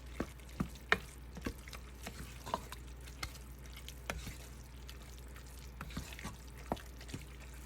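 Okra stirred in a pot on a home stove: a spoon gives scattered light scrapes and taps at an uneven pace over a quiet steady hum, with no one talking.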